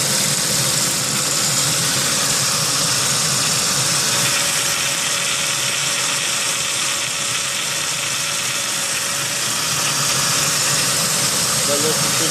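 A Saab 9-3 engine idles steadily after a lifter tick repair, a continuous broadband hum with a faint steady whine, running alone at a constant level for the whole stretch without any rhythmic ticking standing out.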